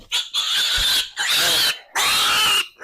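Piglets on a farm squeal during weaning and deworming. Three long, loud, piercing squeals come close to the listener, with short pauses between them.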